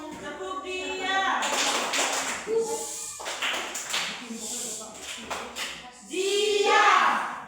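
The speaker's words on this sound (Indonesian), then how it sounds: "Tepuk dia." Students in an Indonesian-language classroom clap in a quick, rhythmic pattern, mixed with voices calling out and chanting along, loud and close throughout.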